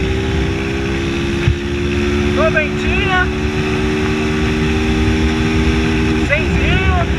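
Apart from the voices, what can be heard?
motorcycle riding on highway with tin exhaust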